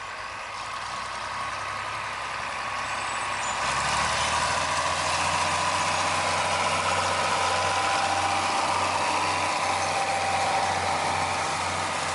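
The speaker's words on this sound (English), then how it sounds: "film a John Deere 4020 tractor pulling an 8300 grain drill" A steady John Deere 4020 tractor engine pulling an 8300 grain drill drones at mid distance, growing louder and fuller after a few seconds and holding a constant, chugging hum.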